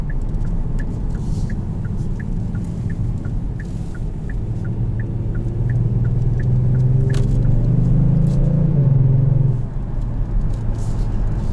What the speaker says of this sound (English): The sound almost reminds me of a Maserati Ghibli